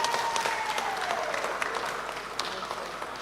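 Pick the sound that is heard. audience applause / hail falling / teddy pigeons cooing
audience applause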